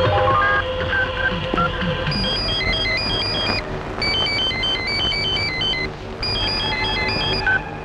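A phone ringing with a repeated electronic melodic ringtone in several bursts, loud and close, set against some background noise.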